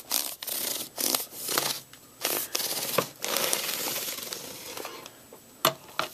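A knife saws down through a baked panettone loaf, giving a series of crisp, rustling, crackly strokes with short pauses between them, close up and with no voices.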